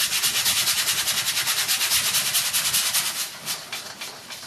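Brush scrubbing oil paint thinly onto a reused canvas: a loud, close, steady rhythmic rasping of bristles back and forth, fast even strokes that slow and fade toward the end.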